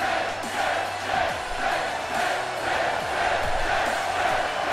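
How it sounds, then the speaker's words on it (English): Arena crowd chanting in unison at a wrestling event in Philadelphia within the WWE 2K17 video game, a loud, dense, continuous roar with rhythmic swells and no clear talk over it. "The fans chanting 10."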